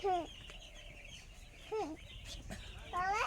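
Chickens in a new poultry farm give a few short clucks and squawks, separated by quiet pauses, over a low background hum; not very loud.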